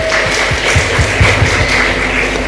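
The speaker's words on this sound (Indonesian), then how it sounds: "Tepuk tangan untuk NU." Audience clapping at a religious talk about NU, a short burst of dense applause from a crowd with individual claps standing out near the front.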